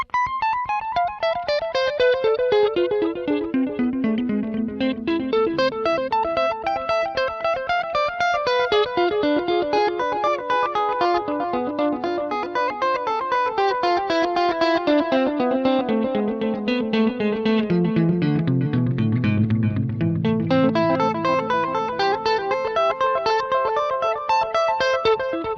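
Guitar played through a Sonicake Levitate delay and reverb pedal, with notes stacking into a dense, shimmering wash of repeats that sweeps downward, loud and continuous with no voices.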